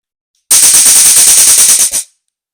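A homemade, rechargeable DIY stun gun fires a loud, continuous rapid crackling electric buzz of sharp snapping pulses for about a second and a half, cutting off abruptly, with no talking.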